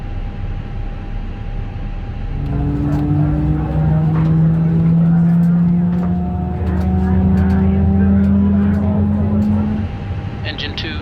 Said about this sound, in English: Engine 2, start.